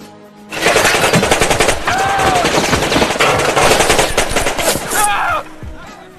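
A guard's makeshift gun fires in a film scene, loud, rapid bursts of automatic gunfire rattling continuously for several seconds with ricochet whines, then cutting off abruptly.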